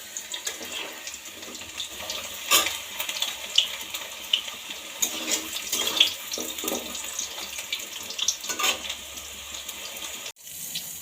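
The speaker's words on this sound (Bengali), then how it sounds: "প্রথমেই ভেজে নিচ্ছি কাঁচকলা।" Raw green banana frying in hot oil in a home kitchen, giving a steady close sizzle with scattered pops and crackles that rise and fall, with a brief clatter near the end and no talking.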